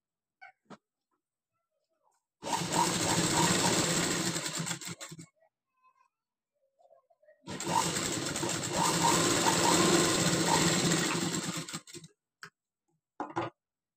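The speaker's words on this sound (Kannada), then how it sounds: "ಕಾಲ್ ಇಂಚ್ ಮಾರ್ಜಿನ್ ಏನು ಬಿಟ್ಟಿದ್ದೀರೋ ಅದೇ ರೀತಿ ಸ್ಟಿಚ್ ಹಾಕೊಳ್ಳಿ" A sewing machine runs two bursts of stitching with a quarter-inch seam margin, each loud close whirring run lasting a few seconds, separated by quiet with small clicks and ticks of handling.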